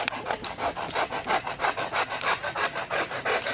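Hand saw cutting 12 foot bamboo pieces for a chicken coop roof, a rhythmic rasping back-and-forth with about a dozen even strokes, moderately close and fairly quiet.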